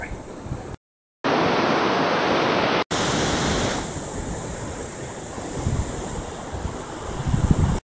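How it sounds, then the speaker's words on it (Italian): Atlantic Ocean surf washing onto a beach in Gambia, a steady broad roar with wind buffeting the microphone, briefly cut out near the start. "Cammino sulla spiaggia, tocco con mano l'oceano Atlantico."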